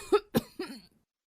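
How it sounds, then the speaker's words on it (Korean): Three harsh coughs from a sick man in quick succession, close and fairly loud, each trailing off, with no talking around them. "그는 몸을 구부리고 좀처럼 멎을 것 같지 않은 기침을 하기 시작했다."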